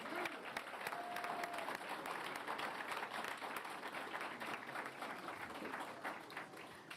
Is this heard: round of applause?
yes